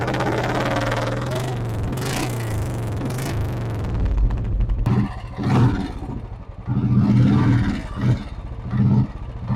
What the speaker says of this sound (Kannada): ಈ ತರ ಸೂಪರ್ ಆಗಿ ಬರಬೇಕು ಅಂತಾನೆ ಶಾರ್ಟ್ ಬಾಟಲ್ ಸೈಲೆನ್ಸರ್ ಹಾಕ್ಸಿದೀನಿ